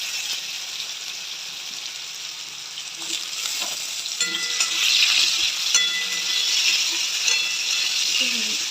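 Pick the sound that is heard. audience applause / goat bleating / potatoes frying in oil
potatoes frying in oil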